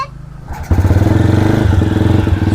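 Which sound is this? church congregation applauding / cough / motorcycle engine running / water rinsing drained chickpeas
motorcycle engine running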